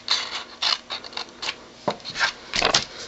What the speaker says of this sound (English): Now I'm going to take my scissors and I'm going to cut on the score lines up to the perpendicular score line